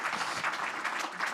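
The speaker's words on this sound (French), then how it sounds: "On peut applaudir." Auditorium audience clapping at the close of a morning conference session, a brief dense burst of many hands at even loudness, heard alone.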